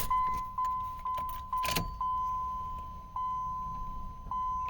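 A GM U-body van, an OBD1-era minivan, is started up; a chime beeps repeatedly in a steady rhythm, broken by a brief burst of starter cranking, then the engine settles to a low, continuous idle.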